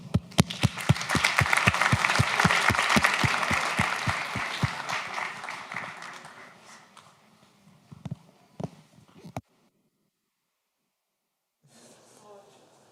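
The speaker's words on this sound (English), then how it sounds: "Let's give her an applause." Audience applause welcoming a speaker at a tech talk, rhythmic clapping that builds then fades, a few stray claps and a brief silence before a voice begins.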